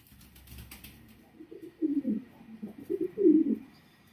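Pigeons at a bird farm cooing: several soft, low, throaty coos in short bursts, close and fairly clear over quiet background, with a faint rustle at the start.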